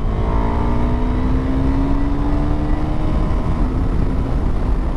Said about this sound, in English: you wouldn't know it unless you rev the engine